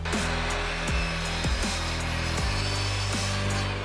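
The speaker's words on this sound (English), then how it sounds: "We're going to measure it out, cut this to size, and then screw it on." A power saw cuts a scrap piece of wood to size in a woodworking shop, a loud steady whine with repeated dips as the blade bites, close and continuous.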